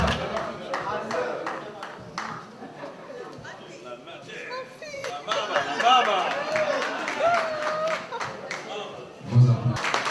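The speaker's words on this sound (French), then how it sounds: "Vos applaudissements." Scattered clapping and crowd chatter at a school gala evening during a prize presentation, irregular claps mixed with voices, moderately near throughout.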